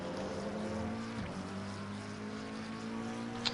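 An Audi race car's V10 engine drones steadily at high revs in the Assetto Corsa Competizione racing game, a smooth sustained tone that dips briefly as it shifts.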